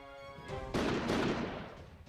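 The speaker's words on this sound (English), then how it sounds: "Van Helsing's gunfire knocks down the soldiers right out of the windows" Gunfire from Van Helsing in the video game Code: Realize erupts as a sudden loud blast after a brief sustained tone, then rumbles and fades over about a second.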